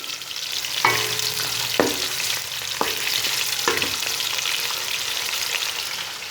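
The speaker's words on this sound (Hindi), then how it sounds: "चिकन को हल्का फ्राई कर लेते हैं।" Chicken lightly fries in a pan for Pakistani chicken karahi, a steady soft sizzle with several sharp clanks of a utensil stirring at intervals, close and moderately quiet, no talking.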